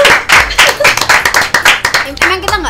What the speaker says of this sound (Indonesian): Tepuk tangan dulu. Tepuk tangan.